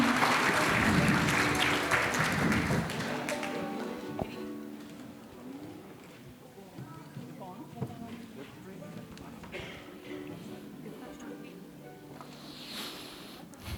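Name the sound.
audience applause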